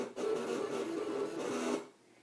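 A Cricut machine cutting a star from cardstock on a carrier sheet makes a steady mechanical whir with buzzing motor tones for almost two seconds, then stops abruptly.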